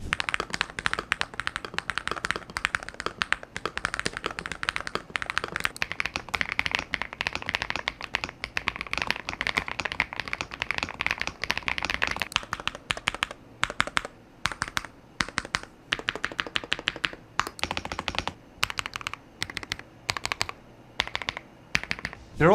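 Continuous rapid typing on an Epomaker HE75 V2 mechanical keyboard with Creamy Jade Hall effect switches and gasket mounts, deep muted thocky keystrokes clattering close up, thinning toward the end into scattered taps with brief pauses.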